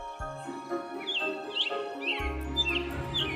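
A cartoon sparrow chirps in a bright village scene, several quick high tweets scattered over a soft musical backing, fairly faint, with no talking.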